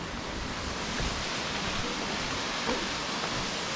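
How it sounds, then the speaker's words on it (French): A waterfall in a lush green tropical jungle gives a constant, dense rushing roar, even and unbroken throughout with no voices. "on se dirige vers la cascade"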